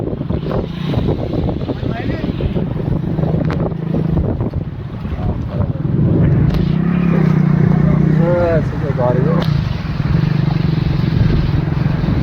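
Motorcycles ride through village floodwater from the Ganga, with engine rumble, splashing and sloshing water, and steady wind noise buffeting the microphone while people talk over it.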